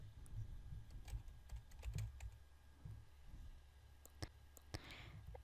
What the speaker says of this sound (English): now I'm gonna type in my password